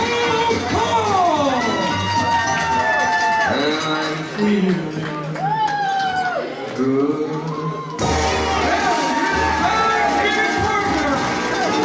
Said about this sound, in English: this crowd is very happy to see the Cowpoke.